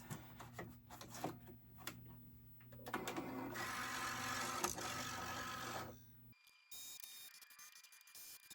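A Cricut cutting machine works through heavy cardstock at a craft table, a quiet mechanical whir with short rhythmic clicks, then a steadier buzzing drive that ends in a sudden shift to a fainter hum.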